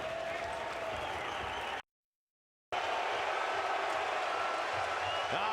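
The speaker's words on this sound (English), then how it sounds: "Listen to the crowd" A UFC event crowd roars and applauds in a steady, dense wash of noise in a large arena, broken by a short silent gap, with a commentator's voice partly audible over it.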